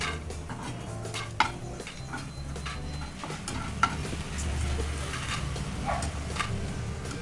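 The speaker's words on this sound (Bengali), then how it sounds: "বড়িগুলোকে তুলে নিচ্ছি" Fried lentil dumplings (bori) are lifted out of hot oil in a pan, with a steady sizzle under metal scrapes and light clinks of a utensil against the pan.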